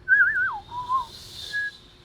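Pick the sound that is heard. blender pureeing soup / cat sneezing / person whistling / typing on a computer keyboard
person whistling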